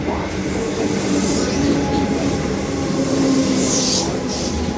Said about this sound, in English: So that's the City Loop train.